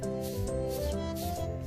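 Steady hand sanding on a Benelli TNT 125 motorcycle engine part, a continuous close abrasive rub that stays even and unbroken.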